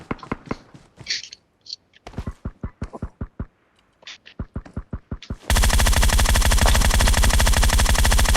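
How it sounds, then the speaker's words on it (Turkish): Gunfire in the mobile battle royale game PUBG Mobile: sharp single shots and short bursts in quick succession, with brief pauses, ending in a dense, loud sustained stream of automatic fire. "Aa biri bana sıkıyor."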